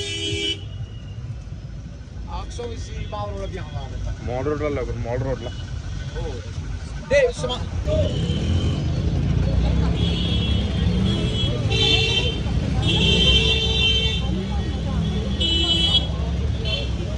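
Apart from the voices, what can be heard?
road traffic with car horns honking, Manali Mall Road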